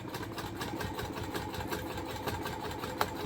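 Sewing machine stitching a bag, a quiet steady mechanical whirring with faint ticking, running continuously at close range.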